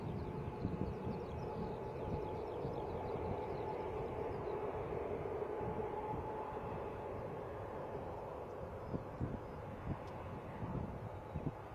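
A Boeing 737-800 at Bristol Airport gives a steady, broad jet roar that holds at moderate loudness throughout, with a low rumble and some wind buffeting, and no voices.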